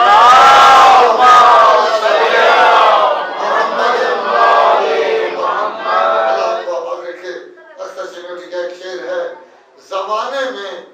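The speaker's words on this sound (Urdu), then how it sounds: "ایک اتنی بلند صلوات پڑھے محمد علی" A mosque congregation loudly chants salawat in unison, a powerful crowd of voices at first that thins into ragged, fading group recitation with brief surges near the end.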